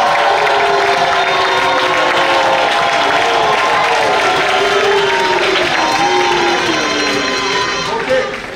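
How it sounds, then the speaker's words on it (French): A church congregation in Abidjan applauding its leaders, loud dense clapping and cheering filling the whole stretch, with voices calling out over the continuous wash of applause. "j'aimerais qu'on applaudisse tous les dirigeants de discussion publique de l'église d'Abidjan"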